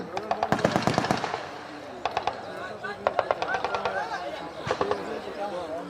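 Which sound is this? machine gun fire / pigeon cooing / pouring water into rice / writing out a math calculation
machine gun fire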